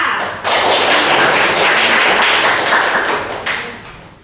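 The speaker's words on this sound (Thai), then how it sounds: "ขอเสียงปรบมือเพื่อนด้วยค่ะ" Classmates applaud in a classroom as a student group is invited to the front to present, a dense, loud burst of many hands clapping that swells and holds steady for several seconds before tapering off, with no talking over it.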